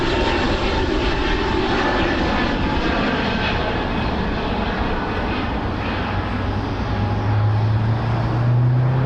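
A fixed-wing airliner landing on runway 16 right at Sydney Airport gives a loud, steady jet engine roar that holds without break, with a low rumble rising toward the end and no voices.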